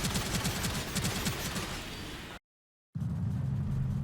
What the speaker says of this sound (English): we've got double Gatling gun, dual wield